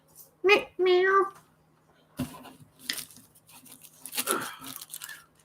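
A house cat meows twice in quick succession, close and fairly loud, with a drawn-out tonal cry, followed by quieter clattering and household noise as someone cleans up a kitchen.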